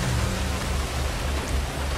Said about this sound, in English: it's actually a pretty rainy day